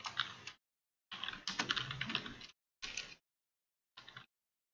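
Someone types a message on a computer keyboard, with quick clattering key runs in four separate bursts broken by brief silences, the last burst shortest, close and alone with no talk.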